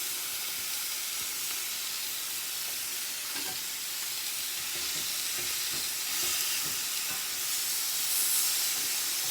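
A steak sizzles steadily in a hot pan, a loud continuous hiss of frying fat with faint crackles and a few light clicks, no voices over it.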